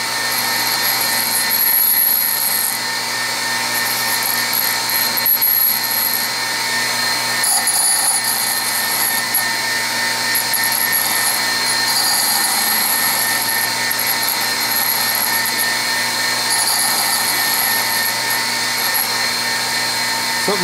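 A metal lathe cuts a small radius onto the nose of a steel carriage stop clamp bolt, giving a steady, loud whine and hum with high tonal ringing that holds continuously throughout.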